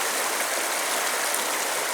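A mountain stream rushes steadily beside a campsite below the Zugspitze in Bavaria, a close, loud and continuous broadband wash of water with no voices.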